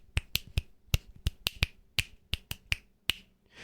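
Sharp finger-snap-like taps play a 3 against 2 polyrhythm, two interlocking pulses of crisp clicks forming an uneven, syncopated pattern, close and dry with no voices.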